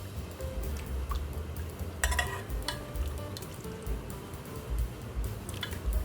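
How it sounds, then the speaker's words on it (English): Unsweetened Greek-style yogurt is stirred into a hot simmering curry, with a soft continuous sizzle, a few clinks of a utensil against the pan, and scraping movements throughout, without talk. "I'm going to add in about a half a cup of Greek style yogurt. So that's unsweetened. And we'll just stir that through."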